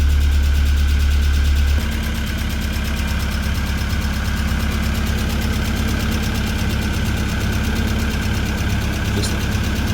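A Vortec 1600 engine in a Tennant M20 floor sweeper, just fitted with a new head gasket and timing belt, idles steadily and loudly at close range after a heavier opening rumble, with a constant mechanical knock and hum.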